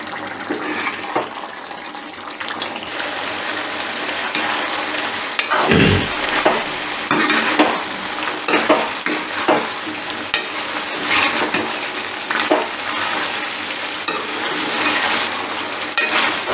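Chicken for a yogurt (dahi) chicken curry frying and being stirred in a pan, a continuous sizzle broken by repeated scraping stirs, close and fairly loud.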